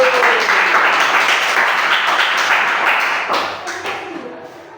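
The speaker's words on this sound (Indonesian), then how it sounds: "Tepuk tangan untuk kelompok 1." A group claps together in a burst of applause that gradually fades out, with a voice briefly heard amid it.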